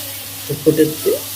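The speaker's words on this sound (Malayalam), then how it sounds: "ഈ പൊടികളെല്ലാം വെജിറ്റബിൾസിലൊന്ന് നന്നായി മിക്സ് ആകുന്ന രീതിയിലൊന്ന് നന്നായി മിക്സ് ചെയ്തെടുക്കാം" Vegetables coated in spice powders and salt are stirred in a pan for green gram curry, a few soft scraping and clattering strokes over faint sizzling, close and brief.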